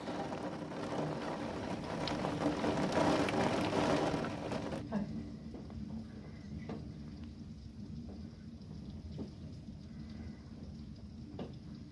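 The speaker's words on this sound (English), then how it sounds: "But the rain is picking up again." Rain falls steadily, heavier at first and then easing to a softer patter with scattered drops, a low rumble underneath.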